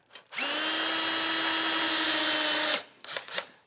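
A power drill whines steadily for a couple of seconds at close range, driving a self-tapping screw into metal, then stops, followed by a few short clattering handling noises.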